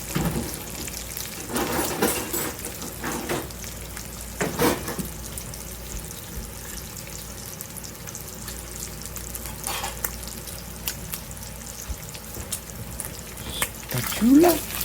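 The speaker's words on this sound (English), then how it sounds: "Let me turn my bacon." Bacon fries in an enamel pan with a steady sizzle, broken by louder bursts as the strips are turned. Someone speaks over it in a few stretches, and a short squeak and clatter come near the end.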